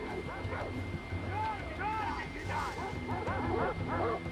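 Several short dog barks and yips from the video game Far Cry 3 ring out at moderate distance over a constant background hum, with voices talking in between.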